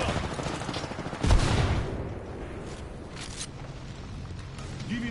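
Gunfire in the Apex Legends video game, with a sharp burst followed by a rumbling barrage that fades into scattered distant shots and mechanical clatter over a continuous battle-din background.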